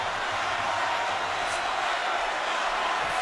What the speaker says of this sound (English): Crowd expectant, cheering their man on, waiting for the moment when he puts Jean on the canvas again.